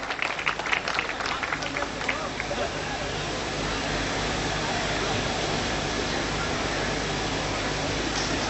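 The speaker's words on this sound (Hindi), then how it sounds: "जोरदार तालियां बजा दें आप" An audience at a scholarship distribution function applauds to welcome a speaker, giving busy clapping at first that settles into a steady, noisy crowd wash with a constant hiss.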